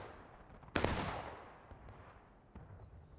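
A single sharp musket shot cracks out in War of Rights during a Bolivar Heights line battle, loud and close, its report decaying into a long rumbling tail with faint distant shots and battle noise behind.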